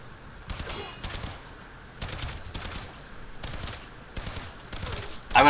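Harpak harpoon-style weapon in the video game Warframe firing bolts, a string of sharp rapid shots in bursts with loud impacts, steady and close throughout.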